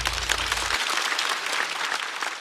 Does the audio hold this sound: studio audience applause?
yes